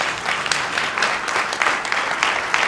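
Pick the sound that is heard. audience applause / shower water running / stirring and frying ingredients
audience applause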